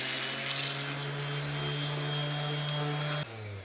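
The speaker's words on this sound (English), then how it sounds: "you can use a sander" A sander smooths the cut edges of a wooden feather, giving a steady, loud motor whine with a constant sanding hiss that drops in pitch as it winds down near the end.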